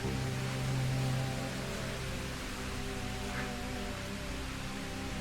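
A steady, continuous rush of flowing stream water in a quiet hillside spot in Konkan, India, an even hiss with no breaks and no voices, fairly close by.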